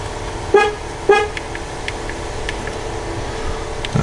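Two short horn chirps from a wrecked McLaren 675LT being unlocked, spaced about half a second apart and fairly close, followed by faint clicks and steady background hiss.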